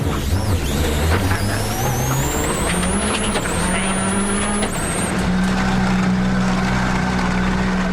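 A rally car engine revving and droning as the car turns around on a narrow stage at Rally Japan 2005, loud and continuous with rising and falling pitch, and a voice talking over it.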